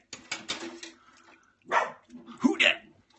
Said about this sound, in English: My dog liked to bark when I said that.